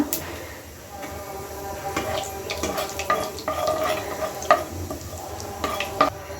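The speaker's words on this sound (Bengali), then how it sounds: "ওই মাছ ভাজার তেলেই দিয়ে দেই একটু আস্ত জিরা ফোড়ন আর একটা তেজপাতা।" Whole cumin seeds and a bay leaf sizzle in leftover fish-frying oil, a soft continuous crackle broken by clicks and scrapes of stirring, with a person talking over the cooking.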